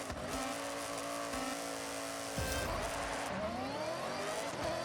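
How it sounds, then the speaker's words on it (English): A supercharged car launches hard down a drag strip in Forza Horizon, its engine roaring loud and steady with supercharger whine, climbing in pitch, dropping at a gear change, then rising again with no talk. "Oh, that supercharger sound. Can't beat it."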